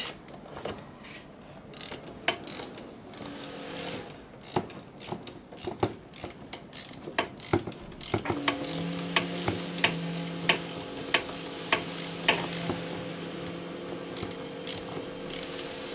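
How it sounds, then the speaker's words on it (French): A ratchet with a 17 mm socket tightening a fork bolt on a Peugeot Citystar 125 scooter, heard as a series of close metallic clicks and clacks, sparse at first and busier later, with some tool rattles. "Et après, je reprends ma douille de 17"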